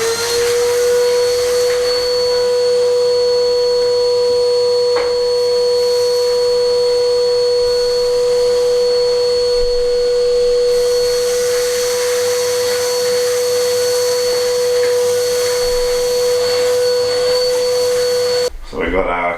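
A Henry vacuum cleaner runs steadily and loudly throughout, a constant whine with a brief bump partway, used on a wood stove chimney, then switches off abruptly at the end.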